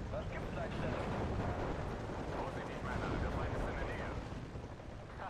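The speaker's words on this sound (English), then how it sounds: "Did manage to get a good bombing strike there though." Bombing strike explosions in the Steel Division 2 war game form a continuous rumbling barrage of blasts and booms, loud and dense throughout.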